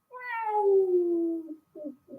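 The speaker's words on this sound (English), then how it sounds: "this guy has five amazing cats" A cat gives one long, clear drawn-out meow, close and fairly loud, followed by a couple of shorter, softer meow-like calls, with no talking.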